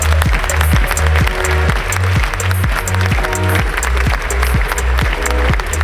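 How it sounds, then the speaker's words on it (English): An audience at a startup pitch event applauds the champions with sustained, dense clapping that stays steady and loud, while a low thumping rhythm runs underneath. "Let's have a big round of applause for the champions."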